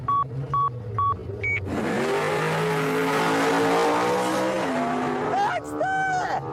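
Race cars and a pickup truck accelerating hard, engines droning loud and close with rising and falling revs and tire noise, after a few short electronic beeps like a starting countdown.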